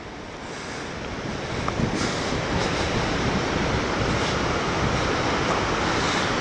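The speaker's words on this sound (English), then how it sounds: "Hear the lovely noise of the surf breaking." Sea surf breaks below the cliffs at St Agnes, Cornwall, a loud, continuous roar of waves building in the first seconds, mixed with wind buffeting the microphone and no voices.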